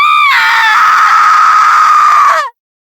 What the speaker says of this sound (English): Rose clutched her gown, fell to the ground, and screamed.